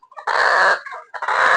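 A chicken sick from the cold makes a harsh, rattling, raspy sound, two loud close bursts separated by a short gap.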